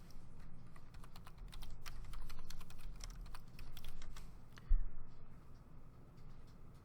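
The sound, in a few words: typing a search term on a computer keyboard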